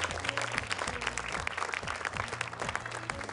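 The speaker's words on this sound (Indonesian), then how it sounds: "Boleh sekali lagi tepuk tangan untuk Hasna Garut." Audience at an Indonesian Quran recitation competition broadcast gives steady, dense applause, fairly faint, with a rhythmic musical backing underneath.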